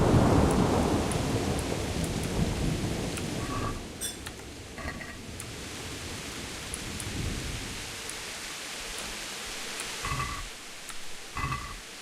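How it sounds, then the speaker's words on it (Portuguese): Steady rain and rolling thunder in the medieval video game Kingdom Come: Deliverance, with a heavy rumble at the start fading into continuous rainfall and a few brief higher tones and thumps scattered through. "o som da chuva, eu gosto."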